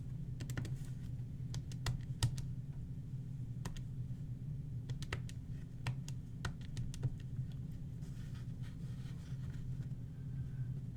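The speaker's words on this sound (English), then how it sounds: "let's type this into the calculator." Keys on a calculator are pressed in a quick, irregular series of light plastic taps, close up, over a low steady hum in a quiet room.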